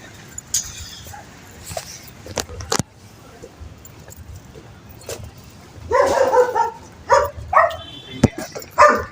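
Dogs bark and yip in short bursts at a moderate distance at a neighbourhood fiesta in Alabang, mixed with people talking and background noise.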